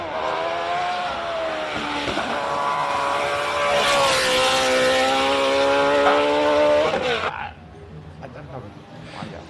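A classic race car at the Simola Hill Climb 2023 holds a loud, sustained, howling engine note at high revs, sounding near, before the roar cuts off abruptly and leaves faint background noise.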